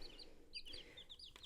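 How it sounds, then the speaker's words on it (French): Tiny young chicks peep continuously in a group, with bright, high chirps overlapping in quick bursts at close range and no talking. "vous allez entendre mes tout petits poulets piailler."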